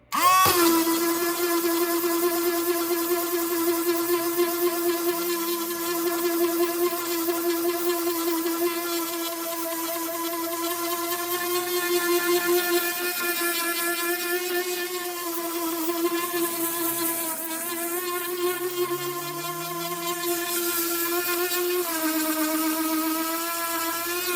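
A small power sander fitted with a coarse P40 pad grinds across a scale-model concrete hard standing, giving a steady, close, high whirring whine with strong harmonic tones that waver slightly as pressure shifts.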